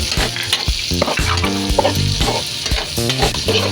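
Garlic and onions frying in a pan for pinakbet, a steady loud sizzle with stirring, heard over background music.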